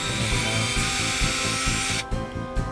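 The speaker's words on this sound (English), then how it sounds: "In order to hold it, I drill a hole to the lid" A power drill whines steadily up close for about two seconds while drilling a hole in a plastic lid, then cuts off, leaving short bursts of buzzing and a faint hum.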